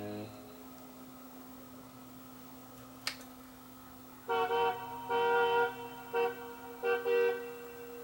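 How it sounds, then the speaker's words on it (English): A foghorn sound effect plays on a Pioneer CD player as a run of loud, separate horn blasts after a stretch of low background hum and a single sharp click. "Yep, that's a foghorn."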